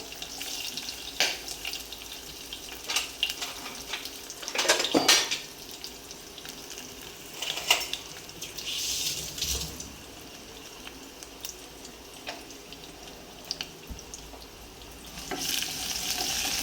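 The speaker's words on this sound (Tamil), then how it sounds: "ஸோ பொரிஞ்சோன்னு வரமிளகா போட்டுருவோம். நம்ம போட்ட கையோட பூண்டையும் போட்டுருவோம்." Dried red chillies and garlic crackle and sizzle in hot oil, with a steady frying hiss broken by spatula scrapes and clinks against the pan.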